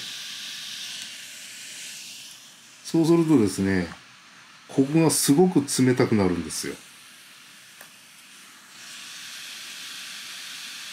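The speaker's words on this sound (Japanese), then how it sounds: "すごいファンの音がするでしょ。 これ、最大になってます。" A steady, loud whooshing fan of a Sony REON POCKET wearable cooling device at maximum runs throughout, continuing beneath a man's speech in the middle and alone before and after.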